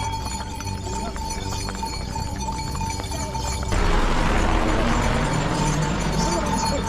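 Horse hooves clip-clopping along the Kedarnath mountain pilgrimage trail, steady close clatter of steps under a constant hum, turning into a louder broadband rush of outdoor noise partway through.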